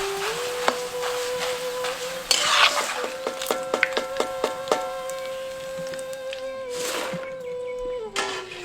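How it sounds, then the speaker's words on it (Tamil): About 50 grams of corn flakes frying in hot oil, with a close steady sizzle punctuated by sharp crackles and scraping stirs of a spatula, over a persistent tonal background hum. "அடுத்து கொஞ்சம் எண்ணெயில சுமாரா ஒரு 50 கிராம் சோளா அவில பொரிச்சு எடுத்துக்குவோம்"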